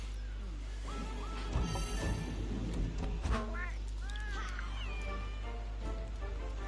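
A cat meows in the video game Monster Hunter: World, several rising cries over a constant game soundtrack and low ambient hum, with no talking.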